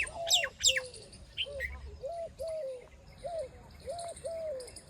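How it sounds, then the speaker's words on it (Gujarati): Birds in a village at sunrise call close by, with a run of repeated, evenly spaced dove-like coos and a few sharp chirps over quiet background. "કેવા મસ્ત પક્ષી બોલે"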